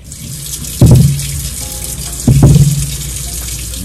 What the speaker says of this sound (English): So I'm rinsing the potatoes and I'm just gonna peel them